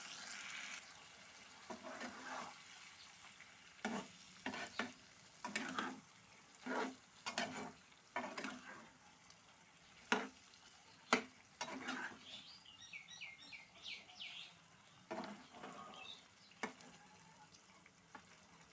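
Mutton frying in oil with tomato, stirred by hand: quiet background sizzle broken by a dozen sharp scraping stirs at irregular intervals, with a faint bird call in the distance.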